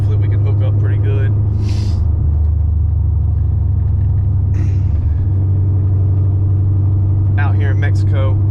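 Pontiac GTO on new tires, a loud, steady low engine rumble held close throughout, with someone talking over it at the start and again near the end.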